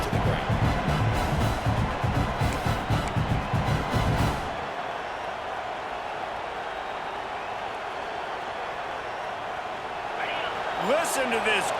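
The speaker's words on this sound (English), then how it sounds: "Listen to this crowd just shaking the girders of this place, trying to help their defense." A large football stadium crowd roars loudly and continuously for a few seconds, then drops to a low murmuring hum, swelling again near the end with faint voices.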